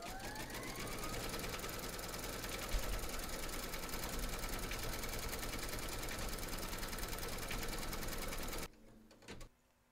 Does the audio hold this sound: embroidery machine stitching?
yes